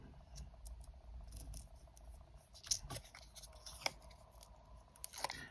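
Scissors cutting a small frame for a handmade shaker card, a few close, faint snips and crunchy paper cuts over a low background hum.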